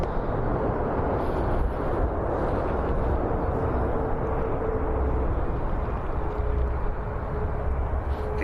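A Ryanair jet at Birmingham Airport gives a loud, steady low roar of engines that holds without break, with no voices over it.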